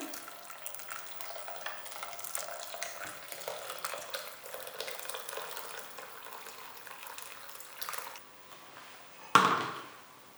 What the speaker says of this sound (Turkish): Bir taşım kaynayan çorbamın üzerine 5 su bardağı kaynar su ekliyorum.